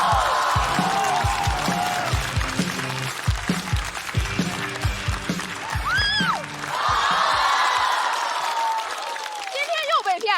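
Stand-up comedy audience applauding as comedian Yue Ming is welcomed on stage, a sustained wash of clapping with rhythmic thumps and a voice talking over it before it fades.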